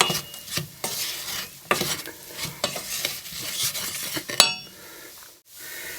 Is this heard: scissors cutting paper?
no